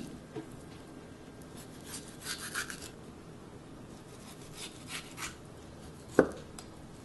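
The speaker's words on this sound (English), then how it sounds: "Slice thin." A knife cuts thin slices of a pound of trimmed raw beef for bulgogi, soft scraping strokes against a board at an irregular pace, quiet, ending in one sharper knock, no talking.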